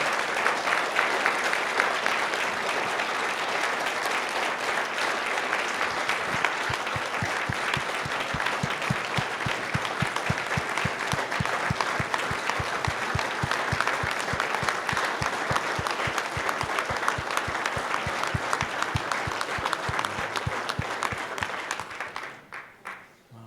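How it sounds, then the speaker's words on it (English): Sustained applause from a summit audience for a panel on homelessness, dense steady clapping close by filling the room for over twenty seconds, then fading out at the end. "One more big round of applause for all three of our panelists for lived experience."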